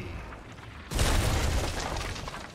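A sudden deep boom of cannon fire in the video game Sea of Thieves bursts in after a quiet stretch, then a loud rumbling roar rolls on and slowly fades.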